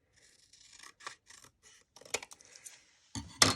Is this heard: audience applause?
no